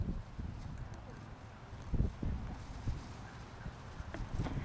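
Faint, irregular hoof clops of horses walking on soft ground, scattered thuds over a low outdoor background.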